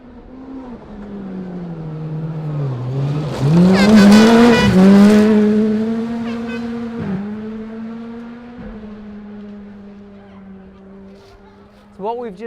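A rally car with Ed McNeely driving tears past on a forest gravel stage, engine note climbing as it nears and peaks loudly, then falling away with gear shifts into the distance before another car's engine rises at the end.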